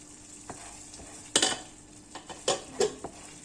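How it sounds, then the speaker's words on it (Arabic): Crème fraîche goes into a sizzling mushroom sauce in a pan and is stirred, with several sharp scrapes and clinks of the utensil over a soft, continuous sizzle. "ونحطو لا كريم فريش تاعنا"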